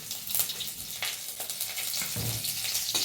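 Nigella seeds and green chillies sizzle in hot oil with a steady, bright crackling hiss, close and continuous with small bursts of spattering throughout.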